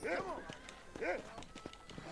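Horse hooves clip-clop in Red Dead Redemption, a fairly quiet, steady trotting rhythm of repeated hoof strikes with a faint voice in the background.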